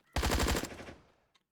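A short, rapid burst of automatic gunfire from a video game, about a dozen quick shots fired in one tight rattle, loud and close, ending with a fading tail and a faint click.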